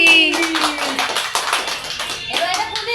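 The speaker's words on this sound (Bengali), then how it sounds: "হাততালি দাও হাততালি" Hands clap in a loose, uneven rhythm at a birthday party for a 75-year-old, with voices and tones running underneath.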